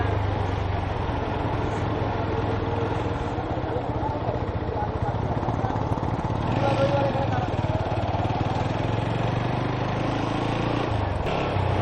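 A motorcycle engine idles steadily throughout while the rider slowly looks for a parking spot in New Town, Kolkata, a continuous low rumble with some traffic around.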